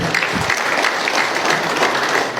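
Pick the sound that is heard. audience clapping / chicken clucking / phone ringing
audience clapping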